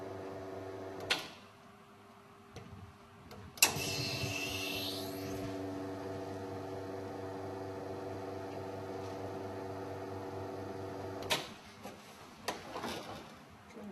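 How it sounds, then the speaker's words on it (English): A traditional espresso machine runs water through its group head to rinse out detergent, a steady hiss with a droning pump hum lasting several seconds, bracketed by clicks and clunks of handling. "This is just to rinse the group head of any detergent."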